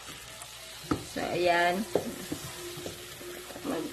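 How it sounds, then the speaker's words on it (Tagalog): Butter goes into a hot pan for yema spread, giving a short burst of sizzling with stirring scrapes and clinks, close by, while someone talks over it. "nilalagay ko na ang ating butter"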